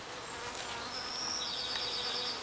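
Honeybees in a box hive buzz steadily and close by, a dense droning hum with higher whining passes from individual bees, heard alone without speech.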